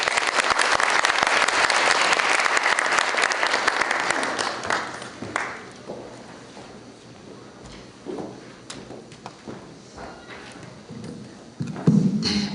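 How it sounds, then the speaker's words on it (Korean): At a university debate competition final, an audience applauds to welcome the university president. The clapping is loud and full at first, then thins out after about four seconds into scattered claps and small noises, with a brief louder rustle near the end. "박수로 모시겠습니다"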